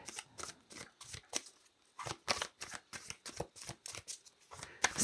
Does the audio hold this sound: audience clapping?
no